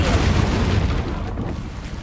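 In Hogwarts Legacy, an Incendio fire spell bursts in a loud, dense whoosh and boom that fills the whole moment, then eases off slightly toward the end.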